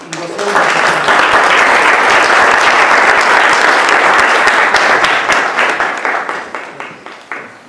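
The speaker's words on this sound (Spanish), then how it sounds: "Por favor, recibamos con un caluroso aplauso" A seminar audience gives warm applause to welcome a speaker on measuring the polarization of light. The clapping is loud, sustained and close, holds steady for several seconds, then thins and tapers off at the end.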